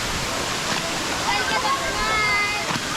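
A waterfall lies below a viewpoint. Its rushing water makes a steady, dense hiss, and a voice talks over it.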